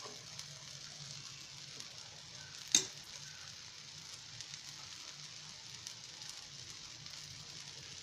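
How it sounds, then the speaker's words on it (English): A thin plain dosa sizzles on a hot tawa as ghee is applied, a quiet even frying hiss throughout with one brief sharp tap partway through, no talking. "I'm applying some ghee to the dosa"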